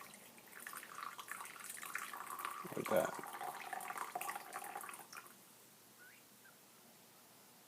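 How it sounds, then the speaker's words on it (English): Coffee pours from the carafe of a Brazen Plus coffeemaker in a soft, steady trickling stream for about five seconds, with a quiet voice speaking briefly. "just pour out a cup of coffee"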